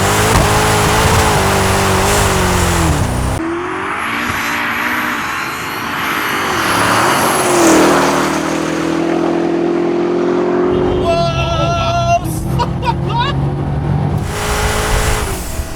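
A Hennessey Twin Turbo Demon 1700 doing a long rolling burnout at wide-open throttle, its engine roaring loud and close with pitch rising and falling through gear changes and sustained revving, tyre and wind noise mixed in.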